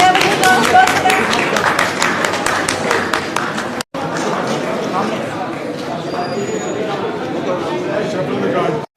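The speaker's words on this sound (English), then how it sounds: "Can we have a good round of applause for them?" Audience applause for certificate recipients at an education conference, a dense, loud crackle of clapping that fills the room, breaks off briefly partway through, then continues steadily to the end.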